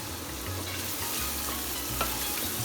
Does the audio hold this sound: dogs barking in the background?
no